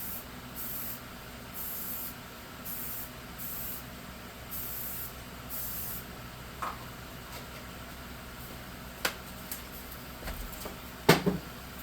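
Aerosol can of clear coat sprayed in several short hissing bursts on a primed tabletop terrain piece, followed by a few faint clicks and taps nearby.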